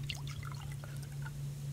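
Watering tomato plants in the survival game Subsistence: a gentle, continuous pouring trickle over a steady low hum, with small dribbling splashes throughout.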